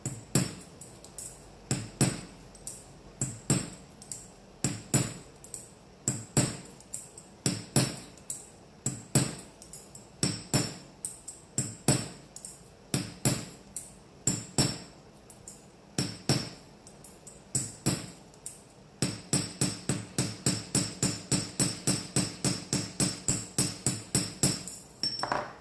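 Hammer tapping a small brass stud rivet in cold-connection metalwork, sharp bright clinks in irregular clusters with brief pauses, speeding into a fast steady run of lighter taps near the end.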